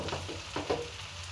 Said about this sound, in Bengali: এই যে গরম পানি দিয়ে দিচ্ছি, নাড়াচাড়া করে দেব।